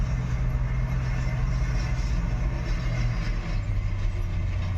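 A combine harvester threshes soybeans with a steady mechanical drone, a low engine hum under a constant rattling, clattering whir at an even level throughout.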